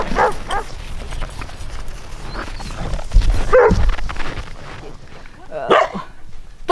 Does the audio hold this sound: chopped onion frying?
no